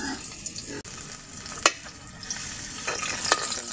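Garlic sautéing in hot oil in a pan for a Filipino pork chili-calamansi dish: a steady, close sizzle with occasional stirring scrapes and clicks, no voices.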